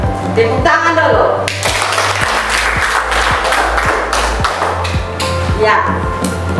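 A class claps enthusiastically in a burst of applause lasting several seconds, with voices mixed in beneath the clapping.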